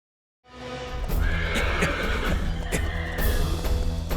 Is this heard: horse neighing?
yes